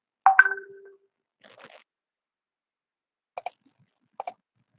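Computer mouse clicking during work in an online quiz tool: two sharp double clicks near the end, spaced apart, follow a brief chime-like blip and a faint rustle, with silence between.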